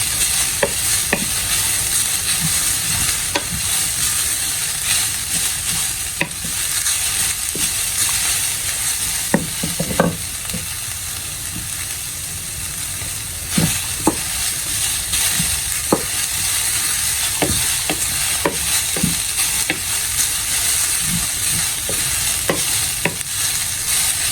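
Carrots and other spring-roll vegetables fry in a pan with a loud, constant sizzle, broken by irregular scraping and tapping from stirring throughout.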